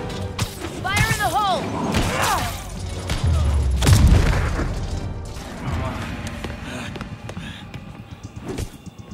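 A deep, booming explosion in the Spider-Man Remastered game rumbles in the middle of the clip. It follows whooshing and chirping effects and leaves a lingering rumble, while a character's voice is heard over the action.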